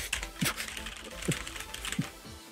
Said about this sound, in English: I can't bang on my computer or my keyboard very well